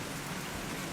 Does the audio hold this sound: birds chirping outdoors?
no